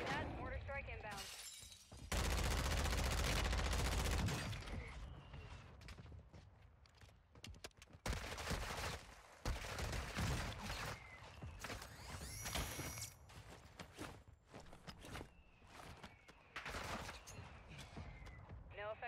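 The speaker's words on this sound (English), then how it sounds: "Copy that. Mortar strike inbound." Explosive mortar strike blasts and gunfire in Call of Duty: Warzone 2, a loud burst of heavy impacts followed by scattered sharp bangs and crackling, with players talking over the chaotic battlefield noise.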